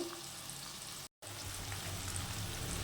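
Mutton masala frying in a pan with a steady, close sizzle that cuts out briefly near the middle, then resumes a little louder with a low bubbling underneath.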